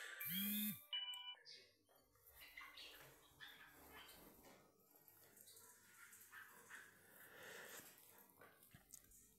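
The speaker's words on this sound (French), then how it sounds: "Nous avons eu la sonnerie qui symbolise l'heure" A short ringtone-like chime sounds briefly at the very start to mark the hour, fairly loud and tonal, then gives way to a long stretch of faint room noise.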